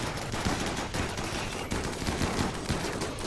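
Snipers firing in the Rimworld video game, a dense run of sharp gunshot cracks and pops, some overlapping, over a constant busy background at moderate level.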